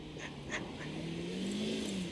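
A modified Honda car arriving, engine note climbing as it approaches and accelerates, moderately loud, with a few faint sharp noises over the motor.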